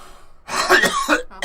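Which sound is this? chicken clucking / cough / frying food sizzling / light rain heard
cough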